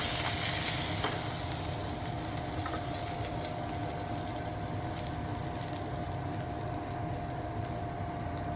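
Halwa (pomfret) fish frying in a pan, a dense, even sizzle held steady throughout, with a few faint clicks near the start.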